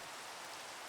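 Soft, constant wash of video-game rainfall, a brief quiet stretch of uniform hiss with nothing else heard.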